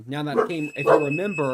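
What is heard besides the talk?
loud beeping in the background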